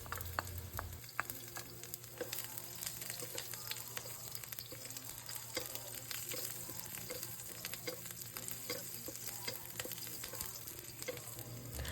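Garlic and onion sauté in a hot pan, a steady dense sizzle with scattered crackles and pops and occasional stirring scrapes, close and continuous throughout with no voices.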